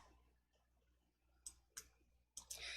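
In Excel, a computer mouse clicks several times, faint and close, with sharp separate clicks over a quiet low hum and no talk.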